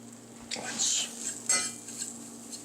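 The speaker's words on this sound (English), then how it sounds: "stir around our roux a little bit." Spoon stirring roux for potato soup in a pot, with a few distinct metallic scrapes and clinks against the pot over a low steady hum, close and clear, with no talk.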